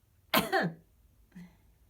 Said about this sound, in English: But at that moment, Shang coughed.